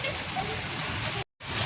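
Heavy monsoon rain pours steadily outside a house, a dense, even hiss of drops on surfaces, loud and close, broken only by a brief dropout near the end.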